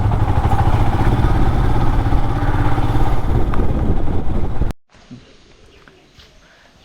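A motorcycle engine runs loud and steady at close range during a solo ride on Majuli island, cutting off abruptly partway through to leave quiet background with faint voices.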